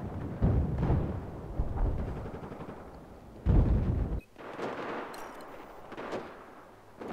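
Battlefield 4 gunfire comes in heavy, booming bursts, with two strong volleys and quieter rattling shots between them, set against a rumbling battlefield backdrop.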